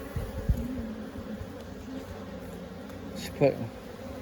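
Honeybees buzz steadily at the hive entrance as foragers bring in pollen, a close continuous drone with a brief louder pass, while a person speaks briefly.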